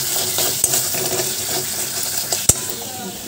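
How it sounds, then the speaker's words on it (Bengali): Bitter gourd frying in a pan in a home kitchen, a soft sizzle with faint watery clatter and a couple of sharp utensil knocks, close by, with voice sounds mixed in. "ওই যে উচ্ছে ভাজা হচ্ছে"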